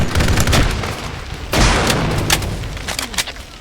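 Frag grenade thrown and exploding in a military shooter game: a sudden loud, booming blast stands out from steady background gunfire, with more sharp, scattered shots following close by.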